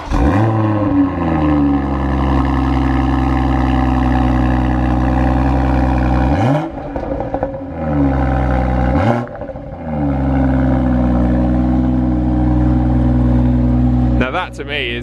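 A 2018 BMW X3 M40i sports SUV's engine fires up and idles with a deep rumble, then is blipped twice into sharp rising revs that fall back, and a third rev begins at the end; people talk faintly.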